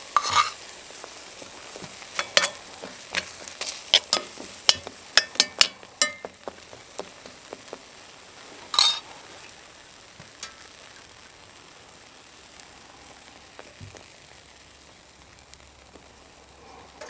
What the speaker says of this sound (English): I'm cooking an omelette in the woods